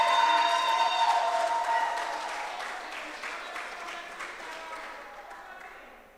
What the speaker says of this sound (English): Give him another lusty round of applause